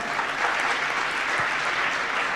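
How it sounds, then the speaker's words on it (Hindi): An audience at a Jain religious gathering applauds, steady dense clapping at moderate volume holding evenly throughout with no voices over it. "जरा अनुमोदना कीजिएगा तालियों के"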